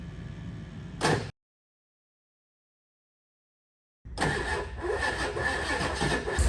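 A diesel engine, freshly fitted with new injectors, roars loudly at close range after a 6,000-amp jump start. A short burst of engine noise gives way to a stretch of dead silence before the engine returns steady and strong.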